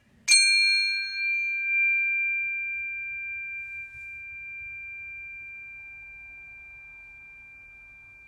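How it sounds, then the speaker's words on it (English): A single meditation chime is struck once during a yoga class, a clear bright ring that sustains and slowly fades over several seconds in a quiet room. "I'm just going to ring the chime and just listen as long as you can"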